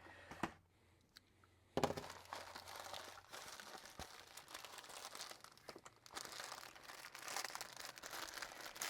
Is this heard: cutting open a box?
yes